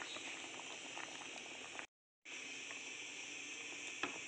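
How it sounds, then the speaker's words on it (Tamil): A pot of pumpkin and moong dal curry simmers with a soft, steady bubbling, close and quiet, briefly interrupted by a moment of silence. "சிம்லேயே வச்சு 5-10 மினிட்ஸ் கொதிக்கணும்."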